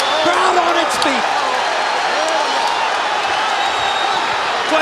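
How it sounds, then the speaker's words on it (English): A large boxing arena crowd of about 20,000 is on its feet, cheering and roaring in a loud, steady wall of noise throughout the bout between Shane Mosley and Oscar De La Hoya, while a commentator talks over it. "Crowd on its feet."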